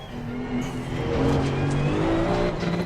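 A GT2 race car engine in the video game Assetto Corsa Competizione roars past the pits with a revving, echoing whine. The sound is loud and close, with no talking.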